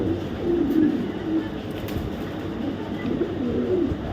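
A female maxi racer pigeon of light oval colouring coos in low, rolling phrases, one near the start and another near the end, over a constant background rumble with other birds faintly around.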